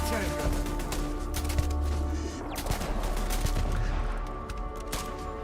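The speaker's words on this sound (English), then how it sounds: "we are under attack. Dude, turrets everywhere." Rapid turret gunfire during an attack in the Starfield video game, dense bursts of shots rattling continuously under a loud, busy game mix.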